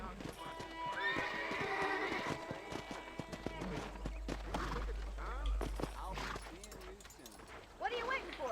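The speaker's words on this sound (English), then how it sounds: "I was hitching the horse." A horse in the video game Red Dead Redemption whinnies loudly and its hooves clop in an irregular run, close by, with people talking throughout.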